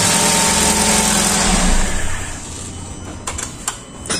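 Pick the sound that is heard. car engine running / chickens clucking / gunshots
car engine running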